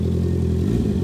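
A Honda CB650R motorcycle engine giving a light rev: a deep, steady, close rumble that swells slightly toward the end of the short burst.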